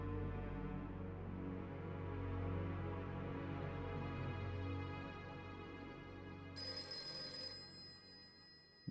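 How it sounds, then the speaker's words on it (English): A telephone rings in the PS2 video game Devil May Cry, a steady repeating electronic trill that plays alone over a low background hum for several seconds, with a brighter ring tone joining near the end. "The phone is ringing."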